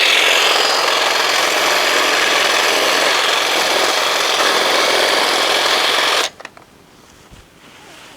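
A Wild Badger 40V battery hedge trimmer cuts through a sapling about half an inch thick, a loud, close, continuous rasping buzz for about six seconds before it stops abruptly, leaving faint rustling.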